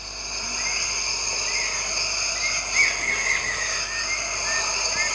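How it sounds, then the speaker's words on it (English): Dense, steady chorus of crickets in the Amazon rainforest, several high pulsing trills layered together and sustained throughout at moderate loudness, with faint other insects or birds mixed in. "Cricket."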